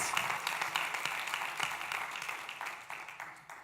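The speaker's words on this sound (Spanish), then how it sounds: "¿Por qué no le damos un fuerte aplauso, Señor, una vez más?" A church congregation claps after a worship time, dense, fairly loud, with sharp overlapping hand claps and a few louder claps standing out. The applause fades slightly toward the end.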